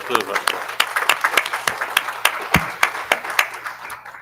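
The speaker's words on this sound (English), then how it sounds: "I think that deserves a round of applause." Audience at a university board of supervisors meeting gives a round of applause, a steady wash of clapping with sharp individual claps standing out, fairly close and lasting the whole stretch.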